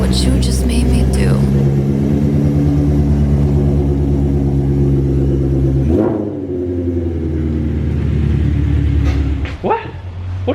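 Shelby GT350 with full exhaust and headers, a loud, deep idling rumble with a throbbing beat close by, then a sharp throttle blip near the end.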